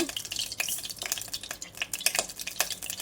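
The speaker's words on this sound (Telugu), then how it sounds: "జీలకర్ర వేగుతుందండి." Crackling, popping sizzle of cumin seeds frying in hot ghee, with scattered sharp pops over a steady hiss, close by and fairly quiet.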